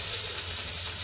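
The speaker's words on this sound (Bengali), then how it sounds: "সবজি আলু আর বেগুন ভাজতেছে" Potatoes and eggplant fry in hot oil with onion and green chilli, giving off a loud, steady, close sizzle with no voices.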